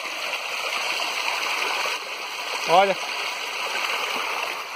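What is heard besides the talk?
waterfall from overflowing reservoir in the caatinga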